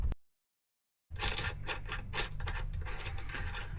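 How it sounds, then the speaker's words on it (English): A torque wrench set to 70 newton metres ratchets on the front hub nut of a Classic Mini saloon, a close, loud run of rapid metallic clicks that starts after a short silence and continues steadily to the end. "I use the torque wrench"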